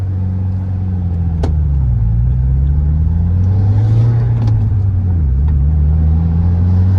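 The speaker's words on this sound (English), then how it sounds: "do one more little run with the 2016 WRX" A 2016 Subaru WRX with a manual gearbox is on a test drive, heard from inside the cabin as a loud, steady low engine drone that dips and rises with gear changes. A few faint clicks sit over it.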